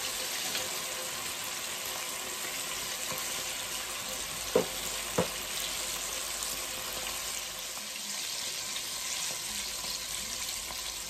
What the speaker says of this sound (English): my chicken wings is frying. They are frying nicely on both sides